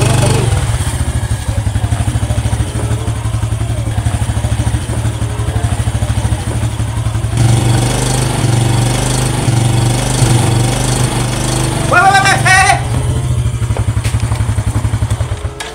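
A motorcycle engine runs steadily close by throughout, with a low droning rumble, some clattering, and a brief higher whine near the end.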